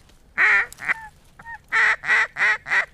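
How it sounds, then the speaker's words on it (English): Duck calls from a hunt before legal shooting light, a few short loud quacks and honks, then a steady series of four evenly spaced bursts, close and clear, with no talk. "we've seen some ducks already. We've heard a few of them."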